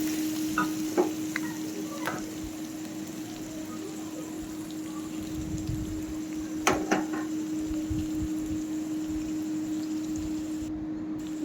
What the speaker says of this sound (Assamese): এয়া তলত লাগি যাব পাৰে ন, সেইটো কাৰণে মই ঘনে ঘনে লৰাই আছোঁ।